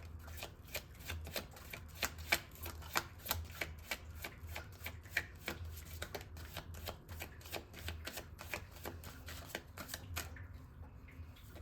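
Tarot cards shuffled in a steady run of crisp riffling clicks over about ten seconds, close and fairly quiet, with a low steady hum underneath, tapering off near the end.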